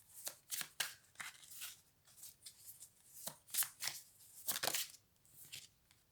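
Tarot cards are shuffled close up, with quick papery riffles and soft slaps coming in irregular bursts over several seconds. No one speaks.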